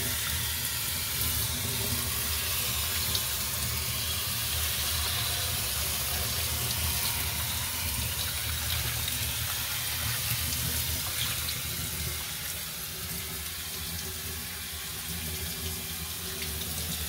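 Low-pressure water from a tap rinses dirt out of a K&N air filter for a Mercedes SL550, producing a continuous close splashing hiss that runs unbroken throughout.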